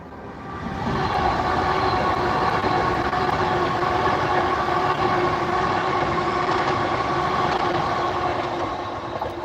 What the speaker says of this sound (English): Oh, we got train.